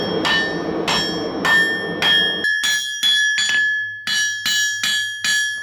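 Hammer blows ring out on an old blacksmith's anvil in a 270-year-old Irish forge, about a dozen sharp, bell-like metallic strikes in uneven bursts with long ringing tails, close and loud.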